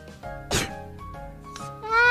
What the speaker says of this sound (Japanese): あー、くしゃみしちゃった